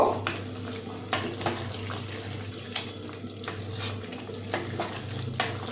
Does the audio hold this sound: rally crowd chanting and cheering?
no